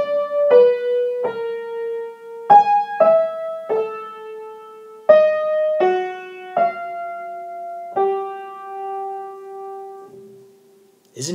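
Twelve-tone serial row played as single sustained notes one after another, about a dozen clear tonal pitches with irregular spacing, alone and moderately loud, the last note held longest before fading.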